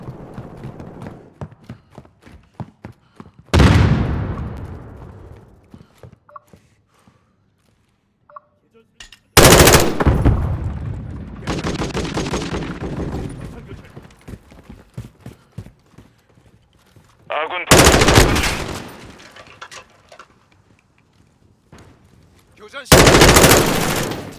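Automatic gunfire in Call of Duty: Modern Warfare 2 multiplayer on PS5 erupts in four loud, sharp bursts spaced several seconds apart, with quieter game sounds and faint rapid clatter between them, and people talking.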